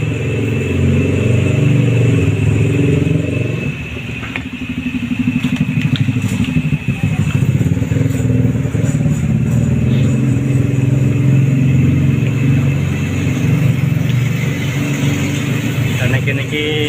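Motorcycles and cars pass along a busy street by a boarding house, a loud, continuous engine roar with revving surges that dips briefly before swelling again.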